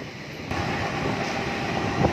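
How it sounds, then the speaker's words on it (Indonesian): Local diesel train with a CC-class locomotive arriving at Babat station, a steady low rumble and rolling rail noise, fairly close and continuous with no speech. "kereta api lokal Cepu telah tiba di stasiun Babat."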